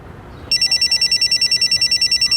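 A telephone bell starts ringing after a brief quiet moment, then continues in a fast, steady, electronic-sounding trill, loud and close with no voices.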